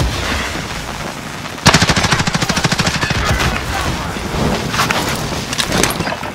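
Gunfire in the video game Call of Duty: Modern Warfare, a sudden loud burst of rapid automatic shots followed by more scattered bursts and battle noise.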